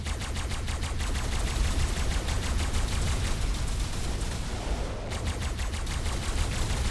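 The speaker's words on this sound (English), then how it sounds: "So you just are going to shoot this thing down with your tech rifle." Tech rifle fired continuously in Ark Ascended, a fast even stream of rapid shots, loud and close, with a brief pause near the end before firing resumes.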